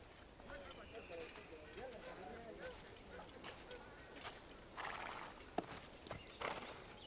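Horse hooves clip-clop steadily in Assassin's Creed I, a continuous mid-distance trot running beneath game ambience and bird calls, with a voice talking over it.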